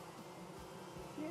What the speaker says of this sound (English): Oh, now I hear bees.